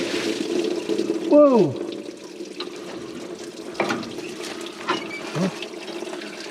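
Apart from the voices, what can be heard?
antifreeze draining from a Jeep Gladiator radiator hose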